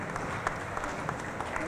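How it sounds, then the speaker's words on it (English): Audience applause at a graduation ceremony, a steady wash of many hands clapping at moderate distance, continuous and even throughout. "Give them a round of applause."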